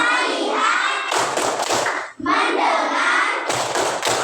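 Schoolchildren perform the 'tepuk fokus' clapping routine together in class. A group chants in unison, then breaks into rapid bursts of many hands clapping. The chant and clapping repeat a second time, loud and close.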